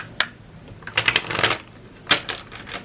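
Tarot cards being shuffled by hand, a close series of crisp riffling bursts in quick irregular clusters with brief pauses between them, no voices.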